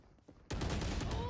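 Rapid bursts of Vandal rifle fire in a video game erupt after a short quiet lead-in, loud, dense and continuous automatic shots.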